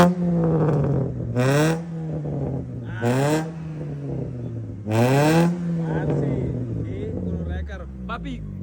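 Car engine at a Colombian exhaust shop, revved three times in strong rising and falling surges with a rough modified exhaust tone, loud and close, then settling to idle as people talk nearby.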